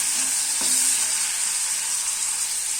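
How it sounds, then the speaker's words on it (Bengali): Small prawns fry briefly in hot oil for a bottle gourd and prawn dish, a dense, even sizzling hiss with one soft utensil knock early on, no voices. "তাই একটু চিংড়িগুলোকে মোটামুটি ওই 40 থেকে 45 সেকেন্ড মতন ভেজে নিচ্ছি।"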